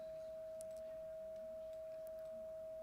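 A steady, pure 639 Hz sine tone hums continuously at a constant pitch over faint background noise, unchanging throughout.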